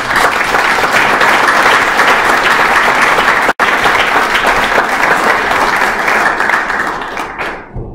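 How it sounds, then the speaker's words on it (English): At an indoor municipal election school board trustee forum, an audience gives sustained, dense applause for several seconds, then it fades away at the end. "Please join with me in giving them a round of applause."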